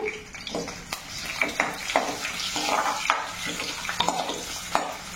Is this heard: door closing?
no